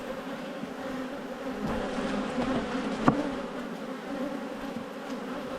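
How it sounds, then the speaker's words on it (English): Honey bees swarm around an open hive in an Australian apiary, a dense continuous buzz at moderate volume close by, with a brief handling knock midway. "got plenty of bees"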